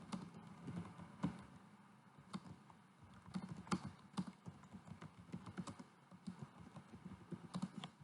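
Fingers tap on a computer keyboard in short irregular runs of close, quiet keystrokes, with brief pauses between bursts.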